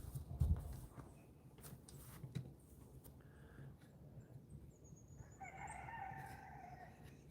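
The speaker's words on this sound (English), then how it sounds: "I hear the chickens going in the background." Chickens and a rooster cluck and crow in the background of an open field during firewood work, the calls moderately distant under steady outdoor noise.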